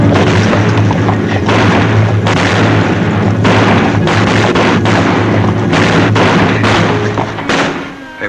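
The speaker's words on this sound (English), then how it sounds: "That's the cowboys riding off the range, having a little fun shooting their guns off." Cowboys firing their guns into the air in a 1952 western film, a loud, dense run of booming shots and bangs that lasts several seconds with steady rumble beneath.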